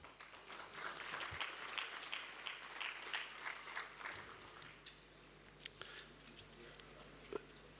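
A large audience applauds at the closing ceremony of the 22nd AfWASA water and sanitation congress, with steady dense clapping that swells and then thins into scattered claps.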